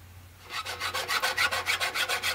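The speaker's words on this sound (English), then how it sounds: "we're gonna file the edge nice and smooth and then sand it with 150 grit emery cloth." A hand file is worked along the edge of an aluminum sheet in about a dozen quick, even rasping strokes, close and fairly loud, with no speech.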